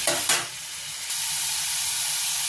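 Water hits a vegetable curry in a hot pan with loud bursts of sizzle, then settles into a steady, close hissing steam.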